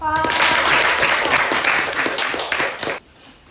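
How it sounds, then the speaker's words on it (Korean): Audience applause greeting a speaker at a Korean personal storytelling lecture event, a dense burst of many hands clapping loudly for about three seconds before cutting off to quiet room tone. "큰 박수로 함께 강연을 시작해 볼게요"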